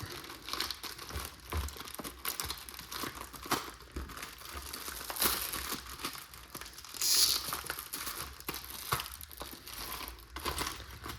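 Crinkling plastic packaging rustled and pulled around while instruction papers are drawn out of the box for an Offenhauser Tri-Power intake for a Ford 200 inline-six, with steady close crackles and one brighter crunch partway through, no talking.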